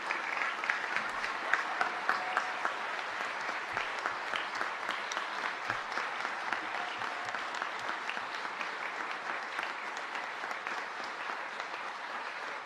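Audience applause at a Los Angeles State of the City address as honorees stand, a sustained steady patter of many hands clapping at moderate loudness for the full stretch, with no speech over it.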